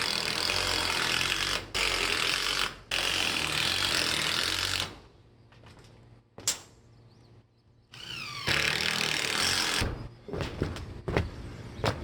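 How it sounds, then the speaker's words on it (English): A power drill drives screws through a 2x4 into a carport's tin roof during a temporary repair, with loud whirring bursts separated by short pauses and sharp mechanical clicks and rattles near the end. "So we're gonna finish drilling this 2x4 down and call it done for today."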